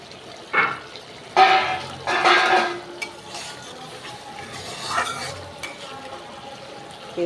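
Tilapia fish curry masala sautéed in oil in a pan, with a few short bursts of stirring and scraping against a faint sizzle and some background clatter, no talking.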